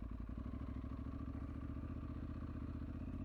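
An Aprilia Tuareg motorcycle rides off-road across sand. The engine drones steadily and close, with constant clattering and thumping from the bike over rough ground.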